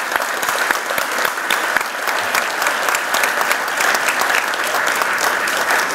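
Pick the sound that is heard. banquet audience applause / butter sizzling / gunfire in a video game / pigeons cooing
banquet audience applause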